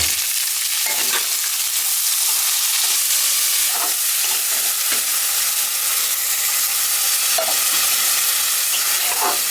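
Boiled chickpeas fry with fried onions in a pan, a loud, constant sizzle close by with occasional scraping strokes of a spoon stirring through, and no voices.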